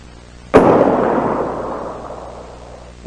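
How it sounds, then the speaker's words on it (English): A single sniper rifle shot rings out, sudden and loud, then fades slowly in a long echoing tail. It follows a short quiet lead-in, and no voices are heard. "There is a sniper shooting at us."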